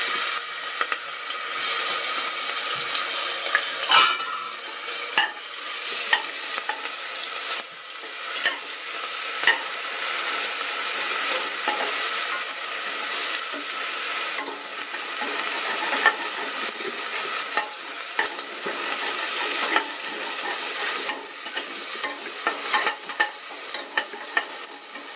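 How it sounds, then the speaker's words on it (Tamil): Spices, green chili, ginger and garlic fry and get stirred in a pan for vegetable biryani, giving a continuous close sizzle with frequent scraping strokes of the spoon throughout. "இது நல்லா மொறியட்டும். இது நல்லா பொரிஞ்சிடுச்சு."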